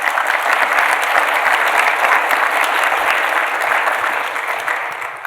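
An audience at a keynote talk applauds, a dense steady burst of clapping from a full room that holds for several seconds and then begins to fade.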